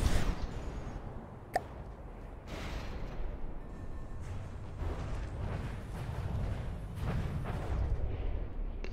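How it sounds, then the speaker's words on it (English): Deep booming explosions rumble in succession in the video game From the Depths, with a sharp crack partway through, over a constant low roar of battle noise, no voices. "Big explosions."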